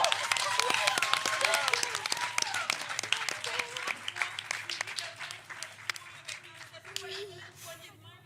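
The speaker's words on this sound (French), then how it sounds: "on veut qu'on applaudisse chaleureusement les 2 équipes" An audience applauds both teams at the close of a school quiz competition, steady clapping that slowly fades over several seconds, with a voice speaking over it.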